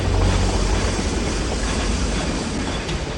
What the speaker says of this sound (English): Stop the train!